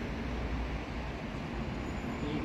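An IC intercity train bound for Stuttgart rolls in along platform 5 at Mainz Hauptbahnhof, a steady, dense low rumble that holds even and fairly loud throughout.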